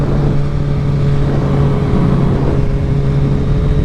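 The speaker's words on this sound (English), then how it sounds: "If I roll into the freeway here, I'll just do like a rolling burnout." A 2022 Suzuki Hayabusa with a BT Moto Stage 1 flash tune and velocity stacks roars close and loud during a rolling burnout on a freeway, its engine holding a steady, droning pitch throughout.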